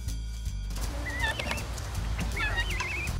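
A horse on an eco-farm whinnies in short wavering bursts over a steady hum of background noise, with a couple of faint knocks mixed in.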